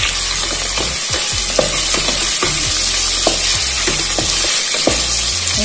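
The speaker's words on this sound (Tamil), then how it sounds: "நம்ம வெங்காயம் போட்டிருக்கோம் நல்லா வதங்கட்டும்" Three large sliced onions sauté in hot oil for a white mutton biryani, a steady close sizzle broken by repeated scraping stirs throughout, with no voices.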